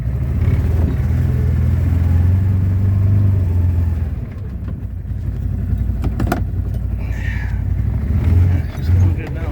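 CF Moto UTV carrying a 72-inch snow plow runs in reverse, its engine rumbling loud and near, dipping then revving again, while someone talks over it.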